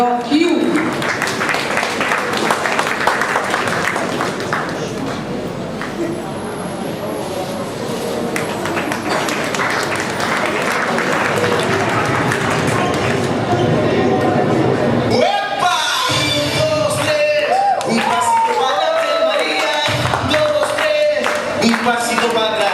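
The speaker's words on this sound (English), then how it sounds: "please welcome with a big round of applause for the children" A school talent show audience claps and cheers loudly and continuously for a long stretch, then the applause gives way to a voice and music.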